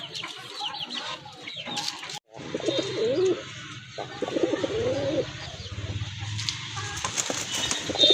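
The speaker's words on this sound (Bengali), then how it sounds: "মাশাআল্লাহ খুবই চমৎকার এক জোড়া কবুতর।" A pair of local deshi pigeons for sale cooing and clucking softly close by, low throaty calls repeating against a busy background of other birds and faint bustle.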